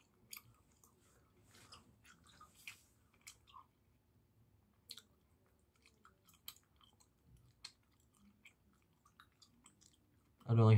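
Gum being chewed close to the microphone, wet clicks, squishes and smacks repeating irregularly for about ten seconds, with a sudden loud low thump near the end.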